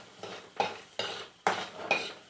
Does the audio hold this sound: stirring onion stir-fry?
yes